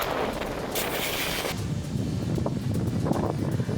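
Strong wind at the Kelavarapalli river dam, where chemical foam swirls like a snowstorm, roars steadily with heavy buffeting against the microphone, loud and continuous.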